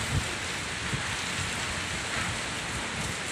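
Steady heavy typhoon rain from Typhoon Ulysses pours on surfaces in Baguio City, with a constant dense hiss, a few low gusty thumps and no voices.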